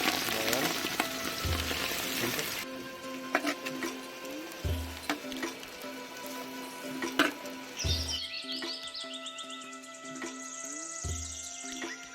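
Steady crackling sizzle of goat meat frying in a pan, continuous and fairly close, with occasional low knocks and faint chirping in the background.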